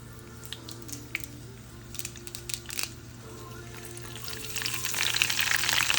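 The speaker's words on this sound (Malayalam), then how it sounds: "എണ്ണ കിടന്ന് വറ്റമുളകും കറിവേപ്പിലയൊക്കെ മൂത്തു" Dried red chillies and curry leaves frying in oil make a soft, crackling sizzle with scattered pops, growing louder and denser toward the end, heard alone without talk.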